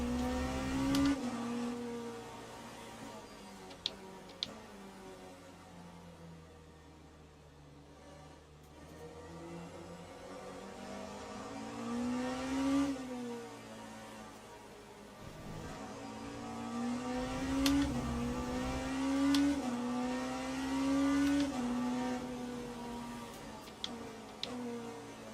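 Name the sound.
race cars driving at Spa in the video game Le Mans Ultimate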